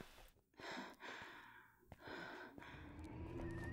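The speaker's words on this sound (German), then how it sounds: "und jetzt atmet sie auch" Character breathing in the horror video game Alone in the Dark, a series of heavy, gasping breaths and sighs, fairly close and quiet over faint game ambience.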